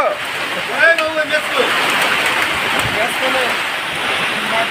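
Hail and rain falling steadily in Dhaka make a dense, constant hiss of a downpour close by, with faint voices in the background.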